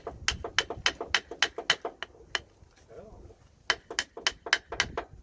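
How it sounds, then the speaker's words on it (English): Sharp metallic hammer blows on a Renault Kangoo CV joint being seated in the car, a quick series of loud ringing strikes in two bursts separated by a short pause. "we're gonna use a hammer to give it a blow"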